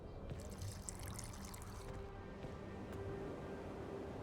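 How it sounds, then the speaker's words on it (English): Water poured into a dye-setting mixture of burnt lime in The Witcher 2: Assassins of Kings, a steady trickling pour running throughout under a low ambient hum. "A bit of water."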